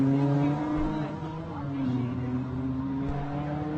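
A Can-Am off-road race vehicle sits at the Baja 400 starting line in Ensenada, Baja California, its engine giving a steady, moderately loud drone with low harmonic tones that shift slightly in pitch.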